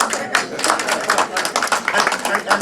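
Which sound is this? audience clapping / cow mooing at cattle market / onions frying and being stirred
audience clapping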